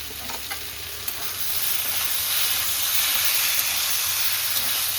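Ghee sizzles steadily in a pan while neem ghonto fries, a continuous bright hiss that builds slightly and holds, close and alone with no talking.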